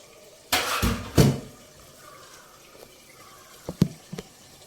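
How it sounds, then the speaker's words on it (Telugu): Greasy ladles washed under a running kitchen tap: two short bursts of flowing water and splashing, then quieter clinks and drips near the end. "గరిటెలు ఒకరోసారి ఇలా వేసేసుకొని చక్కగా కడిగేసుకొని"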